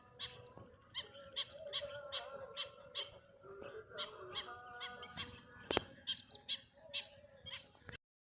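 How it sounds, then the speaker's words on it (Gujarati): Birds calling at dusk in the countryside, a busy overlapping chorus of repeated honking, goose-like calls with sharper cries mixed in, fairly close and steady, no talking. "હવે હાઈનો ટાઈમ થઈ ગયો એટલે પક્ષીઓનો અવાજ વધતો જ જાય"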